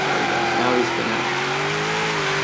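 A Subaru BRZ on a drift build spins out in Forza Horizon 3, its tires squealing in a sustained wavering screech over engine drone, with someone talking faintly beneath.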